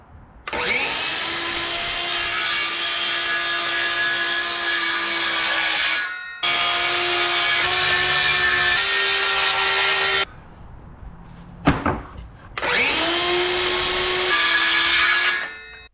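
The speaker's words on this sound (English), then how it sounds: "we should probably cut the planks to size as well. That only takes a few circular saw cuts" Circular saw cutting wood planks to size outdoors in a backyard: three loud whining cuts, each starting and ending abruptly, separated by short pauses, with a few knocks and clatters in between.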